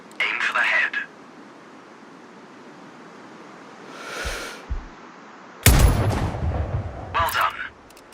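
Sniper rifle shot in the video game Sniper Ghost Warrior Contracts, one sharp loud blast with a booming tail, among other brief game sounds and stretches of quiet.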